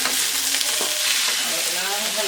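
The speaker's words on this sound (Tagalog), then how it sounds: "Haluin lang natin ito." Pancit bihon rice noodles stirred in a hot pan, a continuous close sizzle and frying hiss with soft scraping as they are turned over.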